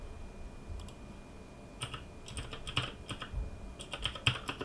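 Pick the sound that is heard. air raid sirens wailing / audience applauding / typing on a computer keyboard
typing on a computer keyboard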